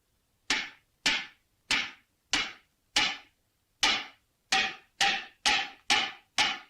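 Someone digs into the ground for treasure in an old Tamil comedy film scene, striking with a digging tool in about ten sharp, evenly spaced thuds that each ring briefly and fade, alone and close.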